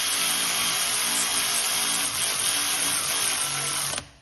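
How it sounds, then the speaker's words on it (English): A power tool tightens the brake caliper bolts on an Audi RS Q8 during a front and rear pad replacement, a loud, steady whirring drive running without pause for about four seconds before cutting off abruptly. "Now, we just tighten them up."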